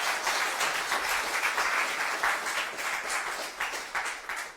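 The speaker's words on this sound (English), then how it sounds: "Give them another round of applause." Church congregation giving another round of applause at a guest-speaker service, steady crowd clapping with slight surges, moderately distant and fairly quiet, with no talking over it.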